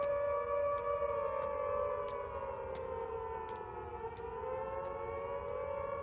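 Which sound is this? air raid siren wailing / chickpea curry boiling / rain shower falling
air raid siren wailing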